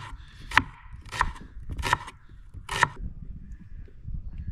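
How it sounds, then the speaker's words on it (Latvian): A knife chops vegetables for borscht on a board, four sharp, evenly spaced cuts over a low room hum, close and clear with no talk. "Un sagriezīsim arī burkānus. Smalki."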